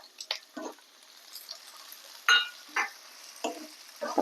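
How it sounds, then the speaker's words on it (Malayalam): Tomato dropped into a hot pan while bread upma cooks, giving a few separate sizzling bursts and stirring scrapes spaced apart, fairly close and quiet with no talk. "അപ്പം അതിനെന്താ ചെയ്യുക, ഒരു തക്കാളി ഇട്ട് കൊടുക്കുക."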